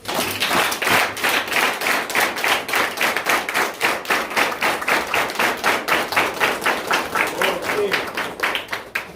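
Rhythmic clapping from a wedding congregation in a church, steady repeated claps at a quick even beat, fairly close and loud, with voices mixed in underneath throughout.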